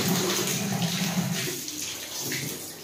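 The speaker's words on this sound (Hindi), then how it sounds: "रगड़ दी हूँ, अब इसको धो रही हूँ।" Tap water runs steadily into a sink or basin as an object is rinsed clean after scrubbing, a continuous close splashing wash that eases off slightly toward the end, with no talk.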